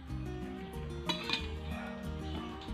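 Dishes and metal cutlery clink and knock softly while a bowl of homemade egg noodles is plated in a home kitchen, a steady low hum underneath and a couple of brighter clinks standing out.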